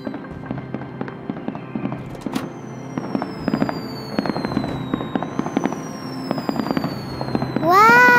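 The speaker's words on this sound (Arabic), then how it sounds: "سبحان الله، ألعاب نارية رائعة" Fireworks go off in an animated Islamic children's cartoon: a dense run of crackling pops and sharp bangs with whistling streaks rising and falling, ending in a loud bright burst with a rising whistle.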